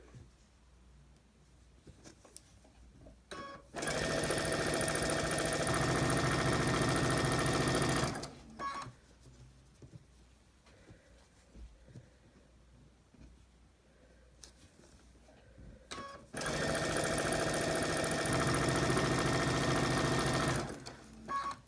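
A sewing machine stitching quilt squares to rectangles for a scrappy star quilt block, two loud close bursts of rapid whirring stitching separated by quieter handling and clicks.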